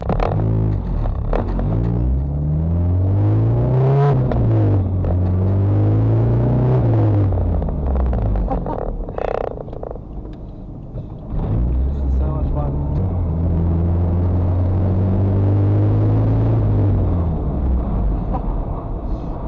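Turbocharged Toyota Celica engine running on boost, a loud close drone whose pitch climbs and falls with throttle, with a brief dip before surging again, while a person talks over it.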